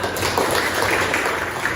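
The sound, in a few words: applause for the class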